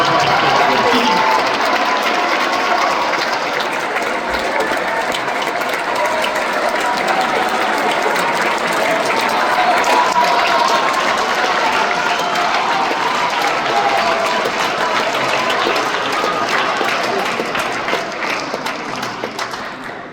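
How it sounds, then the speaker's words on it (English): Sustained audience applause for music educators at a ceremony, dense crowd clapping that holds steady and loud before tapering slightly near the end. "Please, a round of applause."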